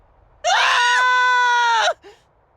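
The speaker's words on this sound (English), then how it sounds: "Screams from the direction of the Hypnos house." Loud, piercing screams from the video game Duet Night Abyss burst out together for about a second and a half, then cut off abruptly, followed by a brief low groan.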